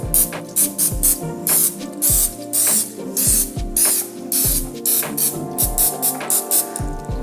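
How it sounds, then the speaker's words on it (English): Repeated short bursts of nonstick cooking spray hissing onto a pan, about a dozen quick squirts in an uneven rhythm, close and loud with mechanical clicks between. "I'm gonna spray that up with some nonstick spray"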